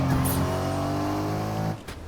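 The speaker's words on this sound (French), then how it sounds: "je prends la voiture" A car driven in the Fortnite video game, a loud steady engine drone holding an even pitch that cuts off abruptly near the end, with a brief voice over it.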